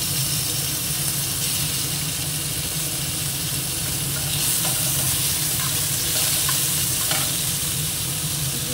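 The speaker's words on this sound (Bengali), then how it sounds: "হালকা পেঁয়াজ কুচনো দেবো আর টমেটো" Chopped onion and tomato frying in a pan, a steady close sizzle with light stirring scrapes running throughout, no talk.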